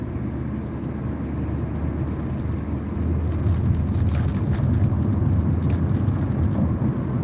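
A car drives along a road at night in South Carolina, a steady broadband rumble of engine and tyre noise that swells slightly partway through, heard from inside the vehicle with no talking.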